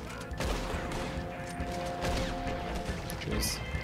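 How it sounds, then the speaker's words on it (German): A rapid burst of sharp gunshots rings out in a noisy Red Dead Redemption 2 game soundscape, with cracks layered over a steady background hum and a brief high hiss. "Wieder Schuss, ein Treffer."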